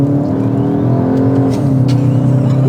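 A Skoda Octavia RS turbo engine pulls hard under acceleration, a loud, sustained close-up drone rising steadily in pitch, with faint whooshing hints partway through and no voices.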